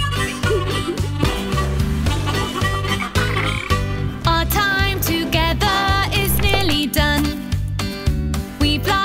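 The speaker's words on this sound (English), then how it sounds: "The frog goes ribbit." Frog croaking sounds in a children's nursery rhyme song set in the woods, repeated within a busy, loud musical backing track with steady rhythm and sung melody throughout.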